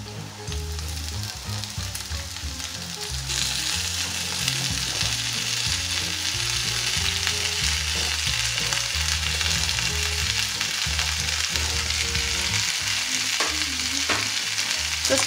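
Diced potatoes, softened and golden, frying in a pan, a dense steady sizzle that grows louder after a few seconds, with repeated stirring scrapes underneath, close and continuous with no talking.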